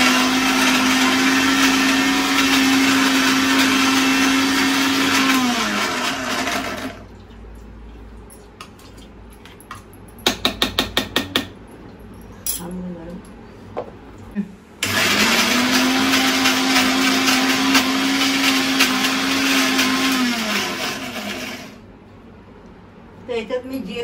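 A kitchen blender grinds 20–25 garlic cloves in two loud, steady bursts of motor whine, separated by a quieter gap with clicks and handling noise, with someone talking over and between the runs.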